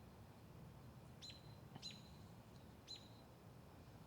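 Birds chirp faintly outside in a few short, high tweets spaced about a second apart against a quiet background hiss.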